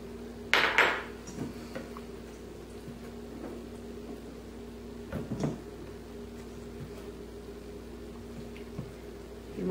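A spoon folds grated lemon zest into a lemon curd mixture in a bowl, giving a few faint scattered clinks and scrapes over a quiet steady background hum.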